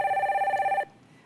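A telephone rings for a viewer call-in on a live stock-market advice broadcast, one steady warbling electronic ring that is loud and close and stops abruptly, leaving faint room tone.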